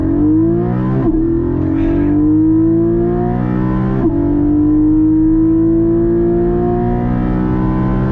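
A 2021 Porsche Cayman GT4 with a PDK gearbox accelerates hard, its engine note climbing loud and close, with two quick gearshifts that briefly drop the pitch before it rises again.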